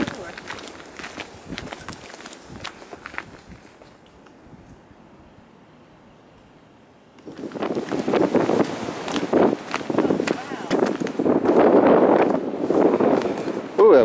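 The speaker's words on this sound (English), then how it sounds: "Ooh, that wind." Wind gusting outdoors on a cold morning hike in Virginia, a steady rush that swells louder partway through, with footsteps and rustling close to the microphone and a person speaking.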